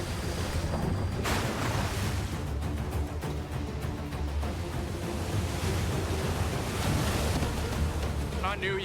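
Ocean waves and surf with a rip current, a loud continuous roar of water mixed with heavy wind buffeting, unbroken for the whole stretch.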